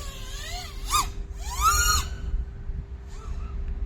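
A 6S-powered Ethix APEX HD5 FPV drone's motors squeal in short rising and falling screeches at takeoff, two strong bursts then a fainter one, close and shrill over steady low wind rumble.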